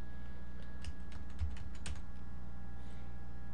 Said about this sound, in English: I'm going to type in twist.